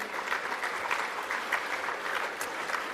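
Steady, dense audience applause fills a room at a VFL Best & Fairest awards night, continuous clapping from many hands at a fairly close, even level with no pauses.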